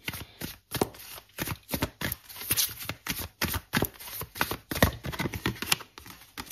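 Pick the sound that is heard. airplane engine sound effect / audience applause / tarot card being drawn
tarot card being drawn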